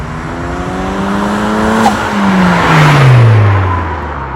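A project car fitted with a Synapse blow-off valve in recirculated mode accelerates hard, engine note rising steadily through a gear, then a brief sharp blip at the shift before the pitch falls, loud and close.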